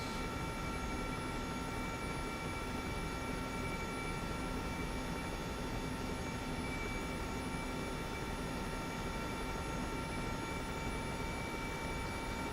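An Mi-2 helicopter in MSFS 2024 gives a steady, unbroken engine and rotor drone with bright tonal whine lines, uniform in level throughout, and no voices.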